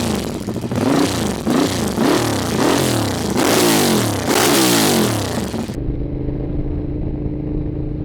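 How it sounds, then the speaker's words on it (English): A Ducati Diavel motorcycle pulls away on a ride, its engine revving loudly and close in repeated rising sweeps through the gears, then settling into a steady drone near the end, with no speech. "It is a high-strung motorcycle."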